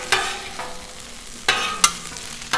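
Chorizo and eggs sizzle on a Blackstone griddle while a spatula mixes them, with several sharp scraping strokes over a steady frying hiss.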